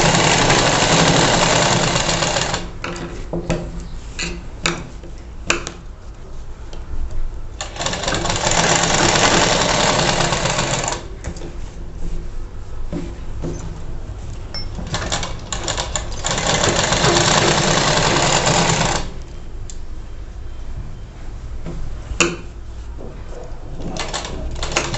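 A sewing machine runs a seam on a blouse, its steady motor whir and needle chatter coming in three long bursts with short pauses between, close and fairly loud, no talking.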